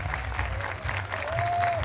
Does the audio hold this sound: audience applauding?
yes